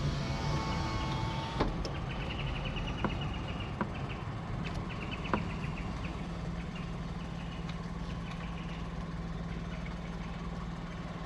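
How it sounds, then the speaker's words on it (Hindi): Birds call in a hillside forest at dusk, with intermittent chirps and repeated calls over a steady low rumble of engine-like background noise. "चिड़ियों की आवाज़ सुने आप।"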